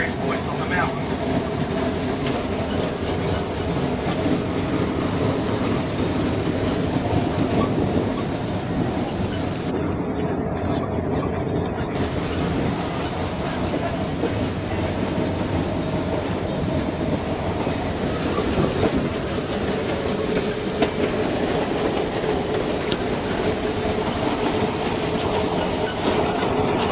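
Cass Scenic Railroad train rolling over the old logging railroad's trunk line on a West Virginia mountain, a steady loud rumble of wheels and cars with continuous clatter throughout, no talking.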